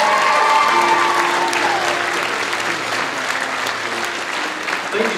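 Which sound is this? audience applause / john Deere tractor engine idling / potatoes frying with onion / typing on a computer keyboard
audience applause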